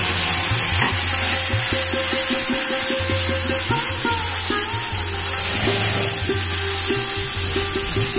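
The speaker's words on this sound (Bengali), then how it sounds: "মশলাগুলোকে ভালো করে তেলে কষতে থাকব" Spice paste fries in oil over cumin and bay leaves with a loud, continuous sizzle, while a spatula scrapes and taps against the pan in repeated strokes near the microphone.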